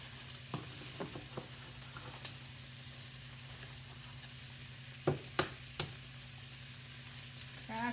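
Eggs cracked into a hot pan with a little oil for pad thai, a soft sizzle with a few sharp taps and knocks of the shell on the pan.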